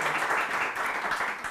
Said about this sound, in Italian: Dottor Paolo Conte, un applauso.